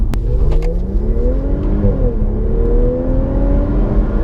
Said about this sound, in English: that S-tronic gearbox shifts like really well, doesn't it?